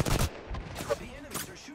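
Gunfire from the Apex Legends video game comes in rapid bursts of shots, loud and close at the start and then fading into scattered cracks, with game voice lines faintly underneath.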